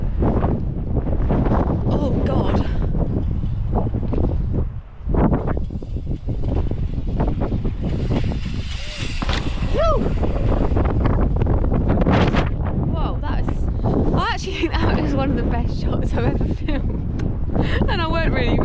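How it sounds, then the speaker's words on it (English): Strong wind buffets the microphone in a constant roar throughout, with people shouting and talking over it. "It's very windy."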